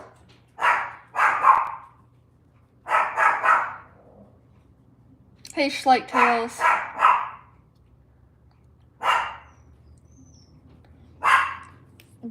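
Several dogs bark in repeated bursts close by, with a few high yips mixed in and quiet gaps between the outbursts, over a low steady indoor hum.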